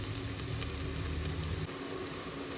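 Small shallots fry in a pan for prawn head gravy, giving a steady, dense sizzle close by that holds evenly for a couple of seconds, with no voices.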